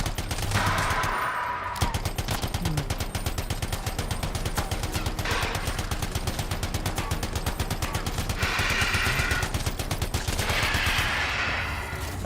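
Gunfire in the video game Anthem, rapid continuous automatic bursts with a fast even rhythm that persists the whole time, fairly loud, with heavier blasts swelling in places; no talking.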